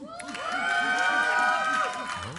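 A crowd at a League of Legends tournament match cheers and whoops loudly, a burst of excited shouting that swells and then eases off.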